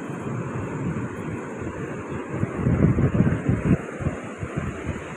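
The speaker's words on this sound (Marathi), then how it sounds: "लाटा लाटा." Sea waves break at Arambol beach in Goa, a continuous low rushing wash with a few stronger surges near the middle, mixed with wind buffeting the microphone; no one speaks.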